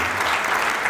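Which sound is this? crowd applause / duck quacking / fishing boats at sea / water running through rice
crowd applause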